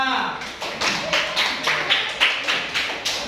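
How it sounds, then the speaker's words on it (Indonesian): A classroom group claps together in a steady, even rhythm, about three claps per second, moderately loud and close, with no talking over it. "tepuk tangan dong buat kita semua"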